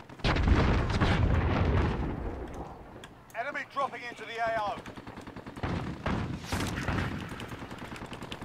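Pistol fire in Call of Duty: Warzone crackles in dense bursts of shots at the start and again near the end, with game sounds and someone talking over the action.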